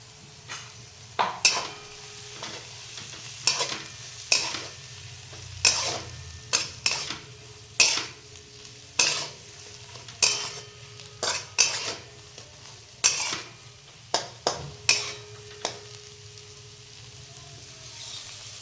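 A ground paste of garlic, peanuts and coriander fries in a pan for a spicy horse gram curry. A spoon scrapes and clanks against the pan in repeated sharp strokes over a soft sizzle, with no talking.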